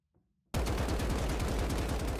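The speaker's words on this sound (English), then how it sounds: "Her primary weapon is a fully automatic assault rifle dubbed Rebel Flame." Rebel Flame fully automatic assault rifle from the shooter game Strinova, firing one loud, rapid, continuous burst that starts abruptly after a brief silence.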